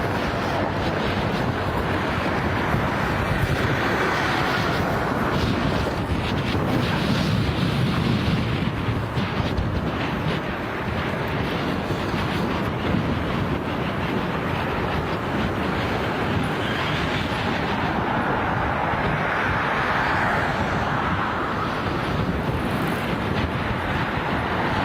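Strong gusting wind roars across the microphone throughout a bicycle ride through Amstelveen, a steady loud rushing buffet with no other sounds standing out.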